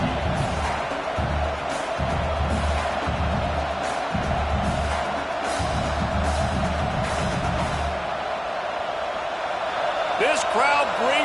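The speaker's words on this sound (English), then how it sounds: "This crowd bringing the energy and noise early." Stadium crowd at an LSU football game roars steadily through a defensive timeout, a dense wash of cheering and noise that stays loud throughout, with a few sharp calls near the end.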